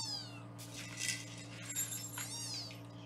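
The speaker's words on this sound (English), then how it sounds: "I'm scaring kittens." Several small kittens meowing in high, thin cries, a few short calls close by over a steady low hum, fairly faint overall.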